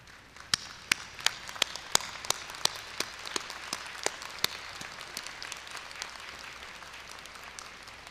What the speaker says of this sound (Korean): 저 2층에 계신 여러분들의 부모님과 할머니, 할아버지와 가족 친지들에게 감사의 박수를 보내드리면 어떨까요?